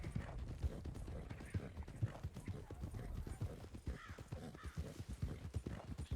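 Horse hooves clip-clop at a steady riding pace in a Red Dead roleplay game, with close rhythmic thuds throughout and faint voices in the background.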